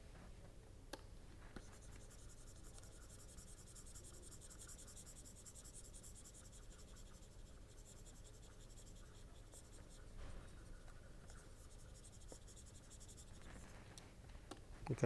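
Pen or marker scratching steadily on a writing surface during a chemistry lecture, a faint continuous scraping stroke pattern with brief pauses, no speech.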